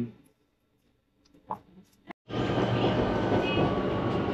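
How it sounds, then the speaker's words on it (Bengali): A passenger train interior in motion: steady loud rumble and rattle of the carriage filling the second half after a sudden onset, preceded by quieter platform sounds with brief clicks. "চলুন ট্রেনে উঠি।"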